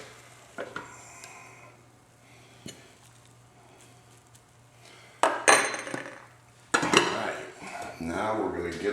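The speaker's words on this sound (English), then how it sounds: "We've got us some rice right here, so we're going to get us a scoop of rice." Cooked rice scooped onto a plate with a serving spoon alongside pepper steak stir fry, a few soft taps and then louder scraping clinks of utensil on dish, with people talking nearby.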